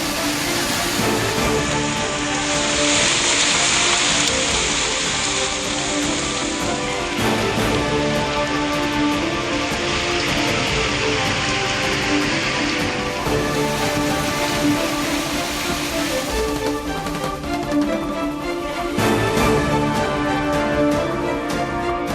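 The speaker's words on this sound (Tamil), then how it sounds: "மதுரையில் பல்வேறு பகுதிகளில் வெளுத்து வாங்கிய கனமழை." Heavy rain falling in Madurai, a dense, loud, continuous hiss of downpour that runs without a break for over twenty seconds, with no voices.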